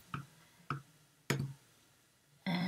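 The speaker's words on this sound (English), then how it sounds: "I'm just going to type in the password" A few separate, quiet keystrokes on a Mac keyboard while a password is typed, each a sharp, isolated click spaced about half a second apart, followed by a brief steadier tone.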